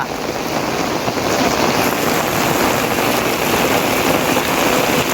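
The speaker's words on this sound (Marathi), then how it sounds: "अजून पाऊस फुल चालू आहे" Heavy cloudburst rain pours down over farmland in Manegaon, Madha taluka, in a steady, dense roar with no pauses, loud and close.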